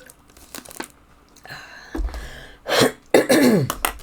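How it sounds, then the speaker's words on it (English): Someone clears their throat and coughs a few times, sharp bursts up close that come in quick succession near the end, after a stretch of quiet rustling. "While I clear my throat."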